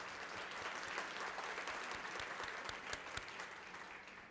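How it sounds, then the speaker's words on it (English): Audience applause at a Rotary club membership event, a dense, steady clapping from a crowd that holds strong for about four seconds and begins to fade at the very end. "Can we give a round of applause for all these people in your clubs?"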